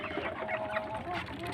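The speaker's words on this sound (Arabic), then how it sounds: "انا مش خايفه غير على الكام فرخه اللي فوق دول لا ينتحروا" Chickens on a fourth-floor rooftop cluck in soft, repeated bursts close by, with faint background murmuring behind them.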